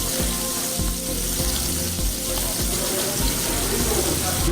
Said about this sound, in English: Dropped it in some lemon oil and butter.